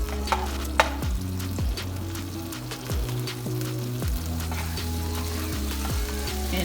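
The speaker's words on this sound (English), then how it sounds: "all I'm gonna do is add a teaspoon of butter" Butter melting and sizzling in a hot pan with pot roast juices, a steady frying crackle running throughout with scattered small pops and some low rhythmic background hum.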